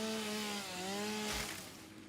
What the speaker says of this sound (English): Let's get our chainsaw back out.